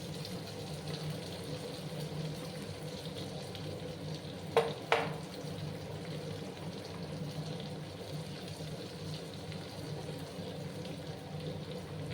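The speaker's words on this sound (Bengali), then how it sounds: "ওটাকে একটু কাঁচা ভাজা করে নেব যাতে বেসনের কাঁচা গন্ধটা চলে যায়" Gram flour (besan) dry-roasting in a pan, a soft steady sizzle and hiss held low throughout, broken near the middle by two quick clinks of a spoon against the pan.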